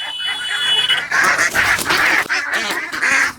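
Female ducks quack in a rapid, loud series of nasal calls close by, several overlapping honks with brief pauses.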